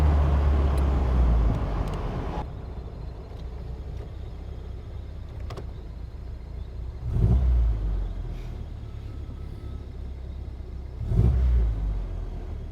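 A Triumph TR4 with independent rear suspension is driven on a road test, its engine rumbling steadily from inside the car with two swells of acceleration and road noise, no talking.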